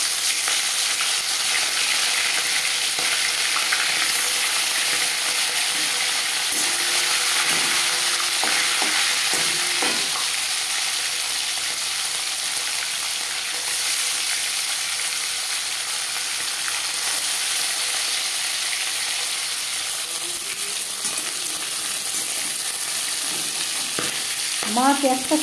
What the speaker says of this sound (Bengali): 5 চামচ রিফাইন্ড অয়েল গরম করে নিয়েছি। এবার দিয়ে দেব ম্যারিনেট করে রাখা মাছ।